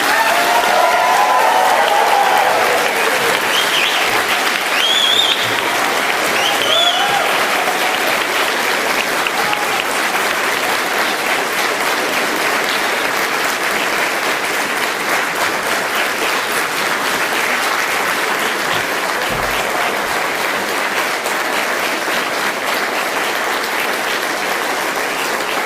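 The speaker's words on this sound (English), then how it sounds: "Please give them a huge and rousing round of applause." A large audience at a university graduation ceremony gives a long, rousing round of applause, a dense, steady roar of clapping that holds loud and even throughout with no speech over it.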